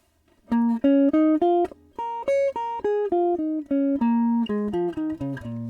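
A single instrument plays a minor pentatonic scale note by note, each tone clean and separate, climbing up and then stepping back down at an even pace.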